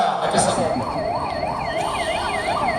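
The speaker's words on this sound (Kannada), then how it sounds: "ಆಂಬುಲೆನ್ಸ್ ಸ್ಥಳಕ್ಕೆ ಧಾವಿಸಿ" An ambulance siren during a civil defence mock drill wails, rising and falling in a steady repeating cycle, loud and continuous over background traffic rumble.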